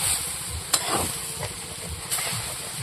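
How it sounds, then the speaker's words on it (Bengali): Dried winter cabbage curry with fried potatoes, turmeric and salt sautés in a pan, giving a soft sizzle broken by a few sharp stirring scrapes, fairly quiet and without speech. "এবার একটু কষিয়ে নেবো।"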